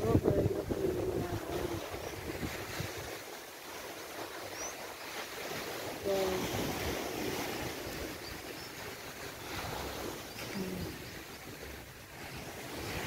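Sea surf at Bangay Bangay Beach in Salay, Misamis Oriental, a steady low wash of waves with gusting wind buffeting the microphone, faint and continuous with a brief word spoken.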